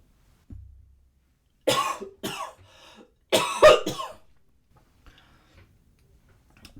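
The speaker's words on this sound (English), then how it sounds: "I just did a little cough" Two or three small close coughs from a lone speaker, in short separate bursts with brief quiet gaps and faint ticking in a still room.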